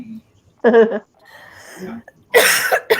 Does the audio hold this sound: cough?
yes